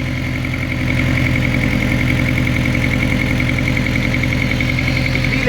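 A Subaru GC8 engine idles with an exhaust leak, giving a steady, close, rhythmic chugging pulse with a droning hum that grows slightly louder after the first second, with no talking.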